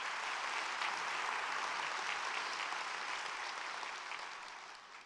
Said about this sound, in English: they also deserve a big round of applause